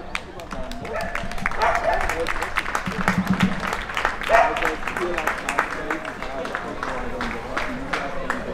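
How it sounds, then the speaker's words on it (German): Applause and cheering from spectators for athletes at a World Cup event, moderately loud crowd clapping that swells and fades with a few brief voices mixed in. "Applaus für die Sportler!"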